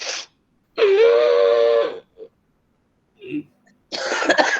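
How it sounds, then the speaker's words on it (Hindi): A person coughs and clears their throat in a few separate bursts, close and loud, with pauses of silence between. "शुरू में किसी को खांसी आ सकती है"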